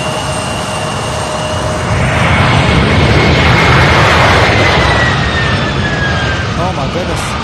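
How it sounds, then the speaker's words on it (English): Delta Connection regional jet passing at SDF airport, a broad rushing roar that swells to a peak midway and then eases off, steady and fairly loud, with a faint higher whine riding on top. "This Delta connection flight coming out of the maintenance."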